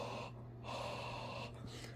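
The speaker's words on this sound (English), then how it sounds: "the easiest way I get rid of it is to just fog up the lens with your breath" A person exhales forcefully onto a sunglasses lens to fog it, two close breathy huffs with a short pause between, quiet and alone.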